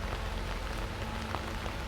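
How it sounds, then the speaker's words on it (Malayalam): Heavy rain pours steadily at the stone Jain temple in Sulthan Bathery, Wayanad, a dense constant hiss of drops hitting surfaces, with no other sounds. "നല്ല മഴയാണ് ഇപ്പോൾ ഇവിടെ"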